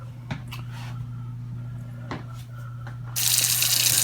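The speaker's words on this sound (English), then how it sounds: "This is cold water in my sink." Cold water runs from a kitchen tap into a sink, with a steady hum and a few soft clicks before the stream surges louder and stays hissing and close, with no talk.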